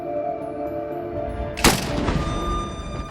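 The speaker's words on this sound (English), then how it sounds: "You hear gunshots, then you hear the glass shatter." A single sharp gunshot cracks out inside a home, loud and close, its blast ringing briefly into the room noise before fading, with no voices.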